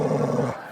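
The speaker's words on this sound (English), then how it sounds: "Oh, what a growl." A boxer dog lets out a low, rumbling growl, close and loud, sustained for about half a second before tailing off.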